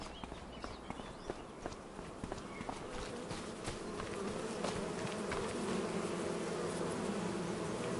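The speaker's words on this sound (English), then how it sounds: "It sounds like bees." A steady insect buzz of bees in the video game Farming Simulator 25 hums continuously with scattered soft footstep-like taps, growing slightly louder over time.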